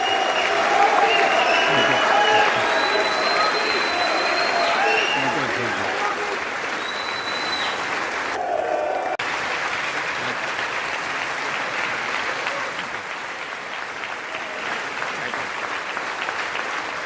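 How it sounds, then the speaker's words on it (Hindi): Applause and a standing ovation for Prime Minister Modi's speech to the US Congress, sustained clapping from a large chamber crowd that swells early and then carries on more evenly, with talk over parts of it. "उस पूरे भाषण में 79 बार तालियां मचती हैं"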